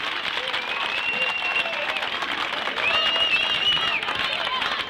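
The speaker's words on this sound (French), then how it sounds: "je crois que vous pouvez l'applaudir bien fort" Crowd applause for a singer at the Miss Surgères 2000 pageant, steady dense clapping throughout, with whistles and cheering cutting through above it.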